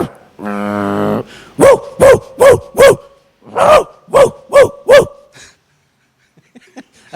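A man vocally imitates a quarrel between dogs: a drawn-out whining growl followed by two loud bursts of four rhythmic barks each, close and clear, then quiet.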